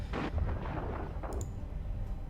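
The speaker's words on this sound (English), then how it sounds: "Lots of laser fire, so this looks pretty cool." Laser fire in EVE Online space combat: dull booming bursts and pops rise over a constant low rumble, fairly faint and with no voices.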